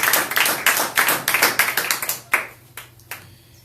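A church congregation claps in praise, a quick run of sharp, evenly spaced handclaps that starts loud and thins out toward the end.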